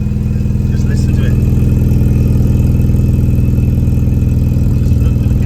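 A supercharged 1275cc Mini engine idles with a steady, loud, even throb, close up and running alone with a faint whine above it.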